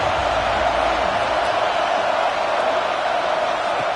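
Stadium crowd at an American football game roaring steadily near the goal line, a dense, continuous wash of noise with no breaks for the full stretch.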